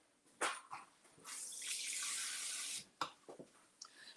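Water runs from a tap into a container holding a cut avocado, a steady splashing stream lasting about a second and a half, framed by short clunks and handling noises.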